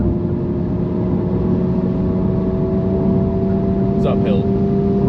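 A car engine drones steadily at half throttle while climbing a hill on a road, heard from inside as a constant, close hum.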